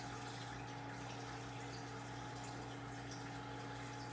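Water poured into a baptismal font, a faint continuous trickling wash over a low steady hum, with no talk.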